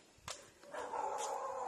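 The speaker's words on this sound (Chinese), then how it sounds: "这都上面的狗叫了" Village dogs bark from a distance, a couple of faint sharp barks followed by a longer whining, howling bark, quiet overall.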